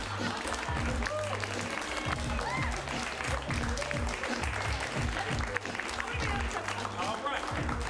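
An improv comedy show audience claps, a dense continuous wave of applause mixed with cheering and voices talking over it.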